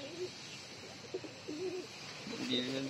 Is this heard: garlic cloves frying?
no